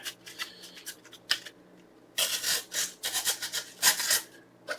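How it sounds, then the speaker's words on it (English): A SOG Voodoo tomahawk cuts cardboard in scattered scraping, tearing bursts that come close and fairly loud, growing busier toward the end after quieter rubbing at first. "How about some cardboard?"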